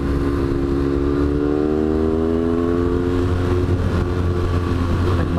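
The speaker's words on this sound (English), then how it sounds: "my exhaust sounds so freaking awesome too" A motorcycle exhaust drones steadily and loud while riding on a scenic road, with rising engine harmonics as it accelerates over a constant low rumble of wind and road noise.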